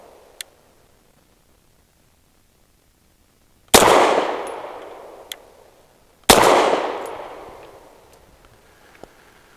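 BUL M-5 pistol fired with training match ammunition outdoors, two sharp loud shots a few seconds apart, each ringing out in a long decaying echo, with faint clicks and ticks between.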